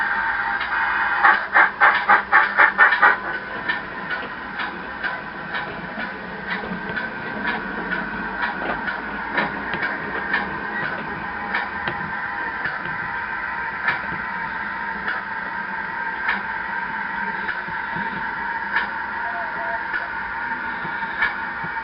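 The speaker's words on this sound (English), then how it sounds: "First train of the day is the pannier tank, and that's just coming in off the main and just entering the yard site." A GWR pannier tank steam locomotive rolls off the main line into a yard, its rumble and rail clatter steady at moderate distance, with a burst of rhythmic clanking near the start and intermittent knocks throughout.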